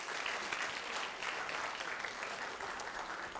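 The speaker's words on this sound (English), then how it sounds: "a round of applause for my volunteer as he comes up on stage." Steady audience applause as a volunteer comes up on stage during a live science talk, a dense even wash of many hands clapping at moderate level throughout.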